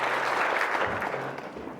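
Applause from an Anzac Day crowd in Waipawa honouring three veterans, a short dense patch of clapping that tapers off.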